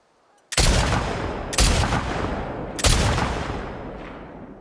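Three loud rifle shots from the video game The Last of Us Part II, each a sharp, booming crack with a long echoing tail, spaced roughly a second apart.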